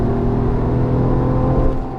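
A Porsche 911 GTS with PDK in Sport Plus holds its engine near 6,000 RPM through a sweeping corner: a loud, sustained, steady engine drone and buzz heard from inside the car, without talk.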